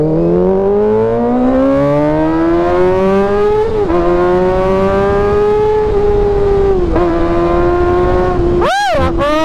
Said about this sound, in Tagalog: screamer talaga tong motor na to